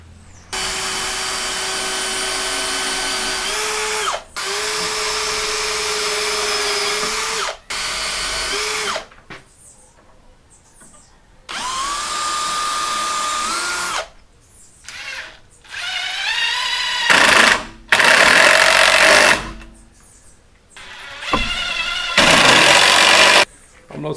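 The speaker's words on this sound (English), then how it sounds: "I'm not sure why the driver is struggling so much, because I pre-drilled the wood" Power driver running screws into pre-drilled wood on a chicken trap build, loud whining bursts of several seconds each with short pauses between, the motor pitch dragging and rising as it strains, a brief ratcheting whir near the end.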